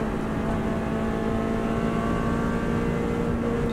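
Subaru WRX STI driven flat out in fifth gear on the Isle of Man course, engine roaring steadily at high revs and close up, a loud continuous drone with no talk.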